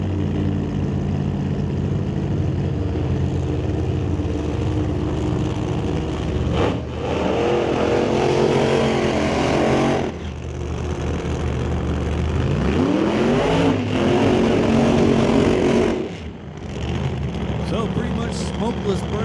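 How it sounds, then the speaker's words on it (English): Drag racing cars at Mission Raceway Park rev hard during smokeless burnouts, engines roaring loud with rising and falling pitch sweeps in several bursts, while a commentator talks over them. "Smokeless burnouts both sides of the track"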